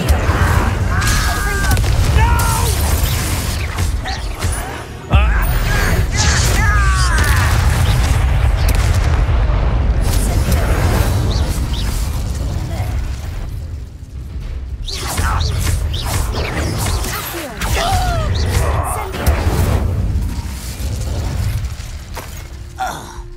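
Incendio fire spell blasts in Hogwarts Legacy: repeated whooshing, booming bursts with shattering cracks through a continuous fight, with brief voices mixed in.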